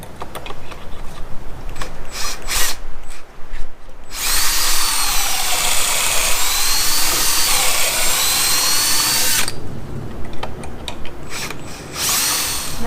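A power drill bores into wood during a farmhouse table build. A few short bursts come first, then one loud, sustained run of several seconds, followed by brief final bursts.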